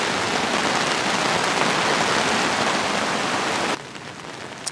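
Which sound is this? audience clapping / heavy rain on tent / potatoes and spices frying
heavy rain on tent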